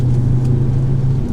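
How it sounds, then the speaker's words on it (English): Turbocharged five-cylinder engine of a 2005 Volvo V50 T5 wagon, a loud, steady low rumble heard from close by with an even hum and no voices. "The 5-cylinder is a very unique engine."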